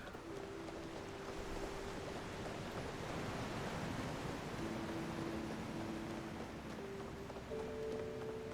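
Wind blowing steadily across an outdoor scene in the video game Palia, a constant breathy rush with faint tonal music notes drifting over it.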